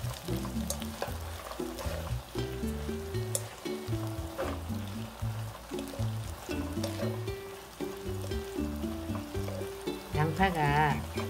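Onions sizzle while being stir-fried with mushrooms and shishito peppers in a pan: a steady hiss and crackle running throughout, partly under prominent background music.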